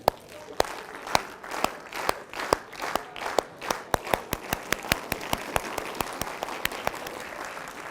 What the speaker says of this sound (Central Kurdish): ئەم چەپڵە لێدەن